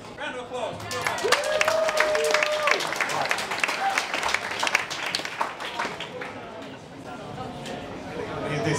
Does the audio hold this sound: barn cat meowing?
no